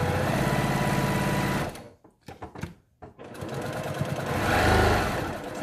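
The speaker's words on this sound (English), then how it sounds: "I generally just go about halfway into my presser foot, and I follow that through on my" A sewing machine stitches fabric around the edge of a child-sized 3D box mask, a loud steady motor whir that drops out briefly for a few short stitch bursts, then runs continuously again.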